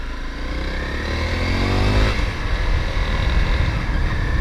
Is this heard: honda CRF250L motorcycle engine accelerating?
yes